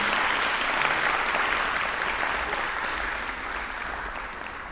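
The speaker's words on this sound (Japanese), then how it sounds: "どうぞ大きな拍手をお願いいたします。" An audience applauds at the close of an open bassoon masterclass at a music festival, with sustained, dense clapping from many hands that fades slightly toward the end.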